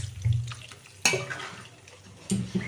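Water splashes into a pot of chopped beetroot and potato in a home kitchen, one short close pour in the middle followed by a couple of soft knocks.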